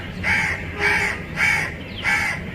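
A crow caws four times in a steady, evenly spaced rhythm, each call harsh and fairly loud against a low background rumble.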